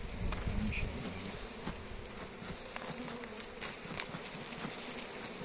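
Honeybees swarm around an opened beehive during a January hive check in Istanbul, their buzzing a continuous close drone with individual bees passing near, alone without talk.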